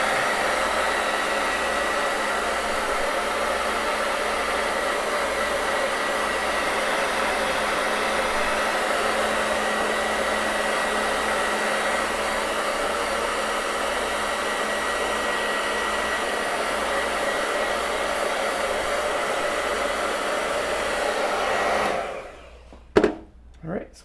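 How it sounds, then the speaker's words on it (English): A hair dryer runs on its cool, low setting as a loud, steady, close whoosh with a low hum for over twenty seconds, then switches off, leaving a couple of brief knocks. "this is just a hair dryer. I turn it on cool, not warm"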